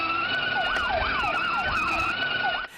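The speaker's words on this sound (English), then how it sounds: "That's the soothing sound of 2-year-old Kenny Oliver's ride-on truck as he barrels into the side of the family home in Pukekohe." Toy siren on a toddler's ride-on truck driven around a family home in Pukekohe, a loud, close electronic wail sweeping up and down in quick repeated cycles over a steady tone, cutting off at the end.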